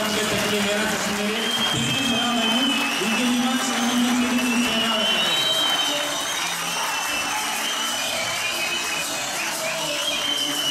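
Audience at an AK Parti political rally in Mardin claps in sustained, dense applause that stays even and loud for the whole stretch, a broad wash of hands with a crowd murmur beneath it.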